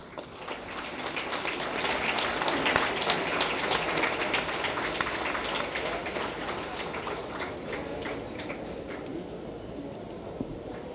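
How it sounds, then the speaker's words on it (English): An audience at a Goa Muslim Jamats felicitation event gives sustained applause, a dense wash of many hands clapping that holds steady for about ten seconds before easing slightly. "Let's have a thunder of claps."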